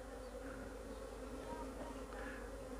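Honey bees droning steadily around a small backyard beehive that started from a weak swarm, a faint continuous buzz with no clear breaks, heard from close by.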